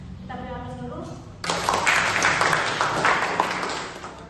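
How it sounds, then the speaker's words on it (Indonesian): An audience breaks into loud applause at an Indonesian university teaching session, and the clapping rolls on for several seconds after a voice has spoken. "Kita beri aplaus dulu."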